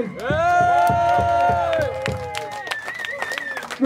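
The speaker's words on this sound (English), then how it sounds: "So let's give these guys a round of applause" A concert crowd at a thrash metal show in Essen cheers and claps for the band, with rhythmic clapping and loud sustained whoops and yells up front, then scattered shouts as it thins out.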